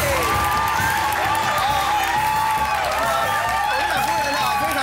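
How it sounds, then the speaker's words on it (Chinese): A crowd applauds to welcome a guest onto a stage, a dense, loud steady clapping with cheers and whoops, and a voice shouting over it. "掌声欢迎！"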